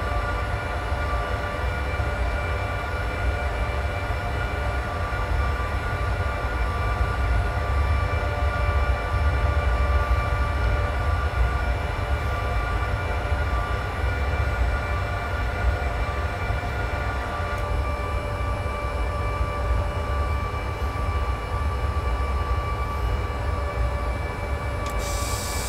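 An S-Bahn train running between Leipzig and Bitterfeld in Train Simulator 2020, a steady loud rumble and hum with tonal electric whine, continuous and unbroken, with no voices.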